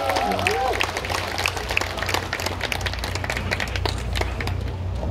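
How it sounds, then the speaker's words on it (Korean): An audience applauds at a Korean civic celebration honoring a district head, steady dense clapping with crowd murmur underneath, a brief electronic chirp at the start. "자 여러분 박수 한번 주십시오."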